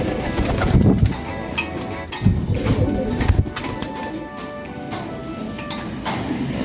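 Low, soft cooing of pigeons mixed with fluttering and shuffling noises, fairly close, with occasional light clinks in the background.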